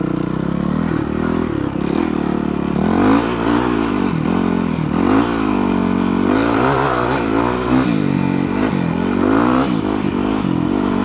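A dual sport motorcycle rides dirt trails close by, its engine revving up and down loudly in repeated surges with gear changes, mixed with rattling and scraping from the rough ground.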